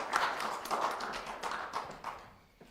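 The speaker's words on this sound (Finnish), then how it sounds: "annetaanpa aplodit Jannelle." A small seminar audience gives sparse applause for a presenter at a military studies event. A few scattered claps sound soft and fairly close, then thin out and fade over a couple of seconds.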